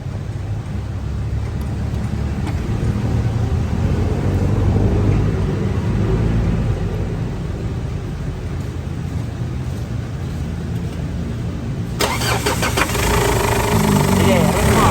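A car engine overheating at high temperature runs steadily and loudly up toward 2,000 RPM, a continuous close drone with a brief shift in tone near the end; voices talk in the background.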